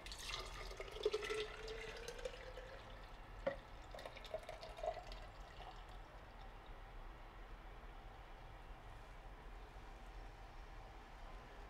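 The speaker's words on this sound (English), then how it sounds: "So I'll pour this in my water bottle or glass jar." Grape and watermelon juice poured into a water bottle or glass jar, a faint trickle with a rising gurgle as the container fills, then quieter dribbling, close and without talk.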